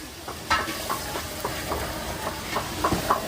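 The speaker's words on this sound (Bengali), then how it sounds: "ব্যাঙের মাংস রান্না শেষ লাস্টে একটু সেন্টের জন্য সাবারাং পাতা দেওয়া হচ্ছে" Steady sizzling of frog meat frying in a pan, with sabarang leaves added and stirred, bringing occasional scraping knocks over the constant hiss, with no voices.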